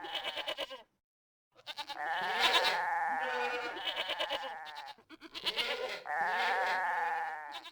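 Goats bleat loudly and repeatedly from goat farms in the city-building game CivCity: Rome, in long wavering calls separated by a brief silence, close and clear with no talking.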